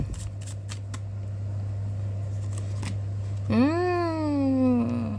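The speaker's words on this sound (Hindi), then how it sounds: "last shuffle" A deck of tarot cards is riffled and shuffled in quick rustling bursts near the microphone over a steady low electrical hum, followed by a brief gliding whine near the end.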